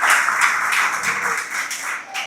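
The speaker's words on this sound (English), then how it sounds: "Give a big round of applause for Meghna." Brief burst of audience clapping for a young storyteller called to the stage at a performance event, close and fairly steady before cutting off abruptly.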